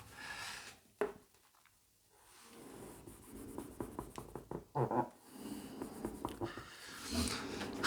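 Pen writing a trigonometry formula by hand on paper during a Class 10 maths lesson: soft scratchy strokes in short bursts, close and fairly quiet, with brief pauses between marks.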